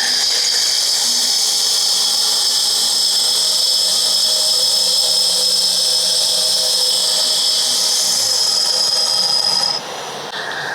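A hand grinder's wheel cuts upward into a metal wall, giving a sustained, loud high-pitched whine and grinding hiss close by that drops off just before the end, with no talk.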